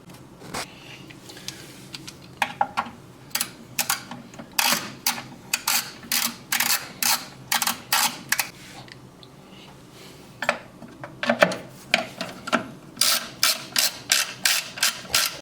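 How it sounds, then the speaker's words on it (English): A ratchet wrench clicks in quick rapid bursts, pausing between strokes, removing 10 mm mount bolts on a Mercedes SLK230 A/C receiver drier, close up and loud in an otherwise quiet space. "we just need to remove the two 10 millimeter mount bolts here and here"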